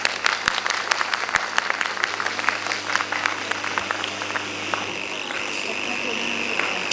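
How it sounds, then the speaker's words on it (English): Audience applause at a conference felicitation ceremony, a steady patter of many hands clapping throughout, with a sustained low hum underneath and a slight swell toward the end. "Please have a good clapping."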